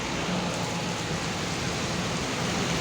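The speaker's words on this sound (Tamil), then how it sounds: "பாருங்கள் செம்ம மழை பெஞ்சிட்டு இருக்குது" Heavy, sudden downpour of rain, a dense, steady wash of hiss that stays loud and unbroken throughout, with no voices.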